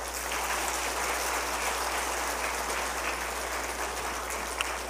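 Sustained, dense applause from a church congregation during a Sunday service, steady and loud throughout, honoring retiring elders as they step down, with no voices standing out.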